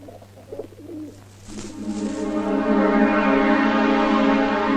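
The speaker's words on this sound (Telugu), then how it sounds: "ఈ పావురం మన సరసాన్ని స్టార్టింగ్ నుంచే చూస్తోందా?" A pigeon coos steadily and fairly close, its low rolling calls swelling in the second half of the scene, with no talk over them.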